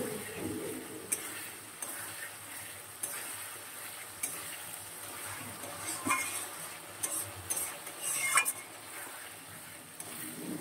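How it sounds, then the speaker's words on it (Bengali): Fish sautéing in a pan of spiced masala, with a steady soft sizzle and occasional scraping and clinks of a spoon stirring against the pan, fairly faint and close, with no talking. "একটু ভালো করে কষিয়ে নিয়ে তারপর মাছগুলো ছেড়ে দিই।"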